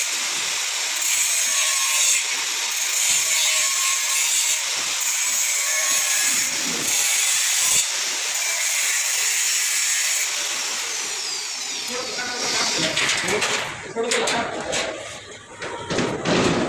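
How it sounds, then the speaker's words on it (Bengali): Long excess metal channels for a washroom interior being cut with a power tool, a loud, sustained, harsh whine for most of the time, then broken by knocks, clatter and handling noises near the end. "চ্যানেল যেগুলো বাড়তি আছে লম্বা এগুলো কাটে নেব আমি।"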